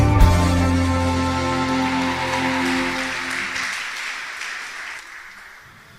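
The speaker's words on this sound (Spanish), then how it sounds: "Recibamos con un fuerte aplauso la palabra de Dios." Church congregation clapping as a sustained dense wash of applause, with music fading out beneath it, then thinning and dying away over several seconds.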